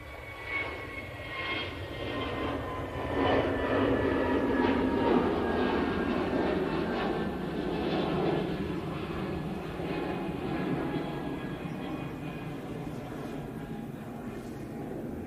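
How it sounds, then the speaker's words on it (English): A Ryanair Boeing 737 MAX 8 takes off from Manchester Airport bound for Copenhagen, its jet engines building to a broad, loud roar that holds and then slowly fades into the distance. "Ryanair 737 MAX 8 going off to Copenhagen"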